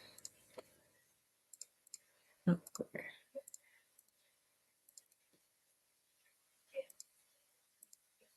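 Calculator buttons are pressed in scattered, irregular taps during a math review. The crisp, close clicks come singly and in small clusters with quiet gaps between them, and a faint voice murmurs now and then.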